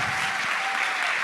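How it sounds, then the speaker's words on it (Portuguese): A conference audience applauds after a talk, a steady wash of many hands clapping at moderate level without pause. "Palmas"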